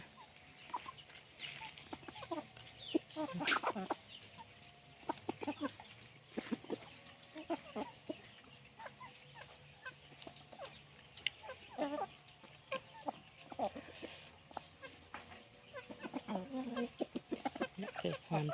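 Chickens cluck and call repeatedly outdoors on a rural Thai farm as they head into their coop on a cold evening, moderately close, while a person talks intermittently over them.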